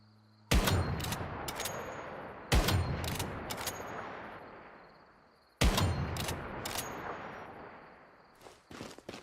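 Gunfire at a boss in the survival shooter Once Human: three heavy, sharp shots spaced a couple of seconds apart, each with a long decaying echo and metallic clatter, followed by lighter clicks at the end.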